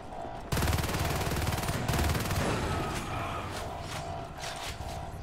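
LMG fire in the video game Natural Selection 2, a loud sustained burst of rapid automatic shots that stops abruptly and is followed by mechanical clatter and scattered fainter shots.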